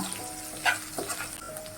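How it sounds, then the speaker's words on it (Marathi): Garlic fries in oil in a kadhai over a medium-low flame for Kolhapuri misal, while a spoon stirs it. A soft, steady sizzle runs throughout, broken by a few brief, brighter scraping bursts from the stirring. "चमच्याने हलवत राहा कारण लसूण तो तेलामध्ये कढईला थोडाफार"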